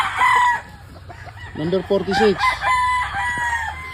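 A Spartans Black rooster crows once, clear and close, amid nearby chicken clucking, while people talk briefly in the background.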